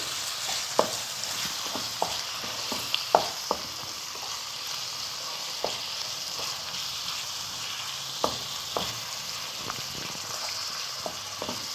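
Minced keema fries in a pan with crushed whole coriander seeds, giving a steady close sizzle with scattered sharp pops and spatula scrapes.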